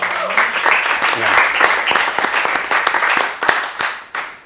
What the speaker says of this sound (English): deserves a clap, no?